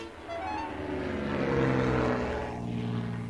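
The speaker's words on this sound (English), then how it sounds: "Percy heard the aeroplane zooming overhead all day." A steady, droning engine hum from a propeller aircraft passing overhead, swelling slightly mid-way and then easing, heard alone with no voices.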